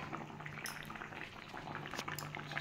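Lentils and potatoes bubbling in a covered pot, a soft steady simmer with small pops and hisses, fairly quiet and close, no talking.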